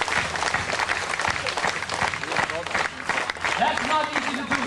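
Audience clapping along at a convention gathering in Hawaii, steady crowd claps mixed with a voice talking and cheering over them throughout.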